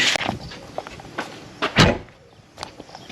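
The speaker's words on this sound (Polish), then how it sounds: "Drzwi leciutko się zamykają." A Deutz-Fahr 6170 tractor cab door swings shut with one soft, dull thud after a few light clicks and rustles nearby.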